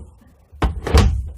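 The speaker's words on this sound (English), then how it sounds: "pull the door open, which works" A car door is pulled open and clunks on an AC Cobra being rebuilt, one sharp knock and then a second louder thud, close by in a quiet workshop.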